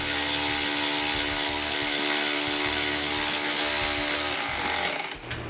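A loud, steady mechanical whine of a power tool running a nut up on a cold air intake of a HEMI Dodge Charger, continuous for several seconds, with a tonal hum, then cutting off abruptly at the end.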